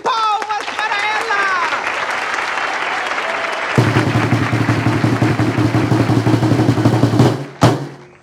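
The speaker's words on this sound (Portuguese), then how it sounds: "Palmas para ela!" Theater audience applauding a clown performer's entrance, a steady dense wash of clapping that swells louder midway, then cuts off near the end with a sharp thump.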